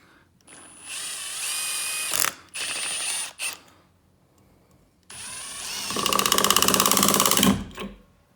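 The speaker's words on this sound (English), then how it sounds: "Run your screws in." A power driver runs screws into a wall to mount a Milwaukee M12 tool and battery holder. It sounds as several loud, close whirring bursts with short pauses between them, and the last burst is the longest.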